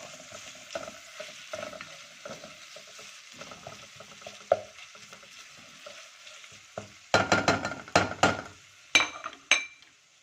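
Garlic-ginger paste sizzling in a hot pan while a utensil scrapes and clinks against it, with quieter frying early on and louder bursts of stirring near the end.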